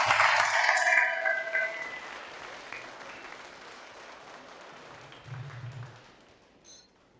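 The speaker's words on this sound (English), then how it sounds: "Please give a round of applause to all those Year 7 students." School awards ceremony audience applauding Year 7 students, a burst of clapping at the start that fades out, followed by quieter hall ambience and a brief second swell of clapping near the end.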